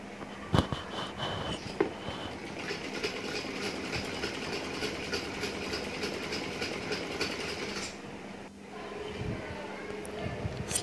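A sewing machine stitches a small girl's sharara with a steady, rapid mechanical chatter that runs for several seconds and then stops, heard close by.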